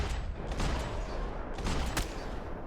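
Sustained gunfire in the Max Payne 3 video game, a dense fusillade of overlapping shots with sharp cracks standing out near one, two and two-and-a-half seconds over a constant loud din.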